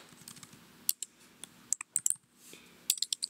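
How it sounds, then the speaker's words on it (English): Fingers tap keys on a computer keyboard, an irregular run of light clicks and sharper clacks at close range, with short pauses between bursts and no talking. "make sure you're actually typing Ready into the text box"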